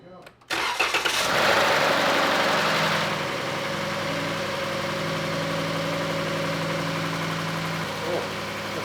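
Van engine just swapped in, cranking briefly then catching with a loud burst and settling into a steady idle with a constant low hum and drone, close by with faint talk.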